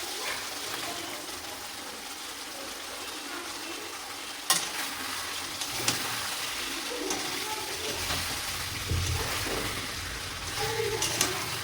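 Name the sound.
fish being stir-fried in spice masala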